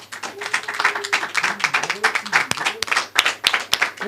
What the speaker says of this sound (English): Come on, give yourself a hand clap.